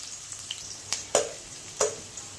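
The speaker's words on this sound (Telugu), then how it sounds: "ఆనియన్ని అన్నీ వేసి దోరగా వేగాలి" Onions fry in hot oil for a village-style Telugu pulusu curry with pond fish and taro, giving a light crackling sizzle broken by a few louder pops and stirring scrapes.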